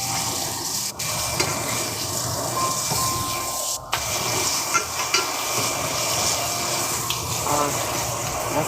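Bacon sizzles steadily in a frying pan, a continuous loud crackle with a couple of sharp clinks and scrapes as the strips are flipped.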